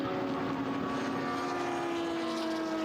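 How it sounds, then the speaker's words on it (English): A Lamborghini Super Trofeo race car drones steadily through a lap at Slovakia Ring, a sustained engine tone heard from a distance with no break. "the engine roaring as Vajek takes the car towards yet another lap"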